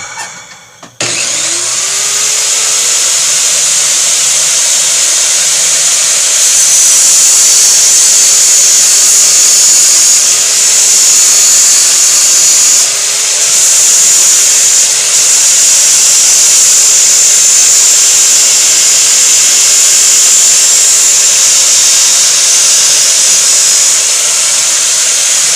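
A power drill bores a hole through a flat piece of sheet metal for a motorcycle oil tank top cover, with a steady motor whine and hiss running loud and continuous for about twenty-five seconds, with no talking.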